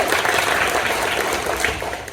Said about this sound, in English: So a round of applause for them, yay!